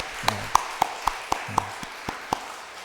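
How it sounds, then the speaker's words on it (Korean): A church congregation claps in celebration of a newly married couple during a worship service, with sparse separate claps spaced at a steady rhythm, moderately close. "행복한 가정 이루고 복되게 살아갈 수 있도록 박수하겠습니다"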